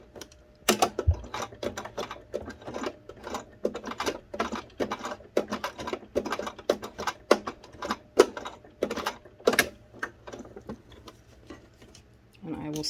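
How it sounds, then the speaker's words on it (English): A sewing machine stitching and back tacking a J fly on trousers, giving rapid bursts of close mechanical clatter with brief pauses between runs. "I'm going to lower my foot, I'm going to take a few stitches and back tack."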